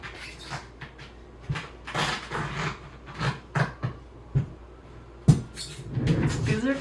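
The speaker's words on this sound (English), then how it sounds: "You hear that coming? That's me. Squeak, squeak." Golf le Fleur jogger shoes squeak and scuff in short irregular bursts as someone walks, several sharp chirps and rubbing sounds close up, with brief quiet gaps between.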